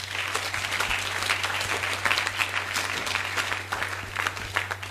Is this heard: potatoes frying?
no